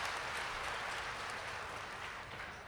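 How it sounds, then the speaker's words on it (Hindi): An audience at a Hindi comic poetry gathering applauds a poet coming to the stage, a steady wash of clapping that fades slightly toward the end. "आप जोरदार तालियों के साथ रमेश का स्वागत करें।"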